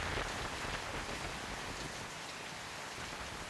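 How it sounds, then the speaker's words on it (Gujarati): Steady rain falling in the villages around Savarkundla in Amreli district, Gujarat, a dense continuous hiss of drops on surfaces filling the whole stretch at moderate volume, with no voices. "વરસાદ વરસી રહ્યો છે."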